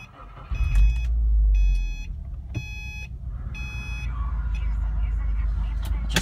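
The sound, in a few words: car engine starting up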